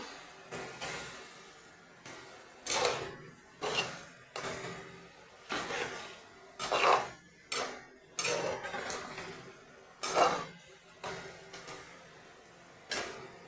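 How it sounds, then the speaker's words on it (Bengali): A metal lid and pot clink and clatter in a home kitchen while cauliflower curry (phulkopi kosha) cooks, giving a dozen or so short, sharp knocks spaced about a second apart, close and fairly quiet, with no talk. "জল দিয়ে একটু ঢাকা দিয়ে দিই"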